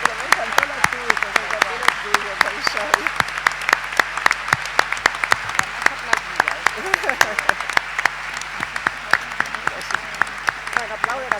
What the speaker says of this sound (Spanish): aplauden a toda la mesa